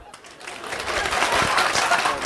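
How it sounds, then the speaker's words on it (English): Applause rises quickly from a crowd, a dense burst of clapping that builds and stays loud, with some voices mixed in. "Hey, applause."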